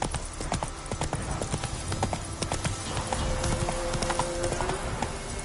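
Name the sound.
horse Roach galloping, from video game Witcher 3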